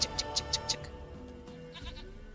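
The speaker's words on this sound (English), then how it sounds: "Goat of mine, dearest, sweetest goat." A goat in The Witcher 3 bleats five short, even calls close by and fairly loud, then falls quiet under a music-like game background.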